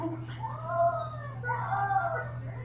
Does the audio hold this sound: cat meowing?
yes